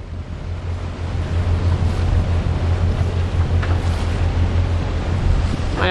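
A Lagoon 380 sailing catamaran motoring on its engines through a current in a Caribbean passage, with a steady low engine drone beneath rushing water, waves and heavy wind buffeting the microphone.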